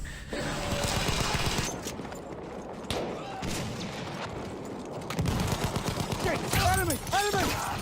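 Gunfire in the video game Battlefield 1: dense bursts of shots and heavy impacts run throughout, loud and close, with a brief break in intensity in the middle before a renewed barrage near the end.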